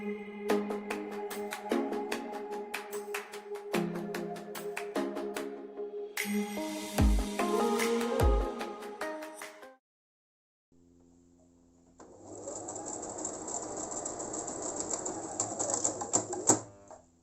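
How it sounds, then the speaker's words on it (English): A sewing machine hems a green dress in close, rapid bursts of stitching chatter separated by short pauses and handling clatter, then a quieter, steady whirring run after a brief silence. "fold it over and run it under the machine and give it a hem"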